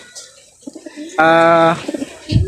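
Pigeons coo in a rooftop coop, a loud, sustained, buzzy call from a close bird in the middle, with softer murmurs and shuffling around it.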